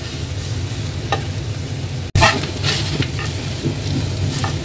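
Meat sizzles steadily in a pan, with stirring and turning clatter and a sharp scrape or thump partway through, close and alone without talk.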